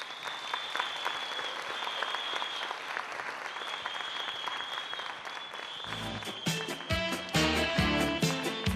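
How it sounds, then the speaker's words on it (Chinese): Sustained audience applause at a success-story stage event in Singapore, dense and steady, with music swelling in toward the end. "来给他一个热烈的掌声"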